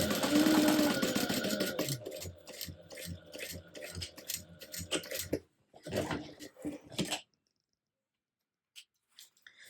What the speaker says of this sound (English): I'm going to baste this closed at 1/8 of an inch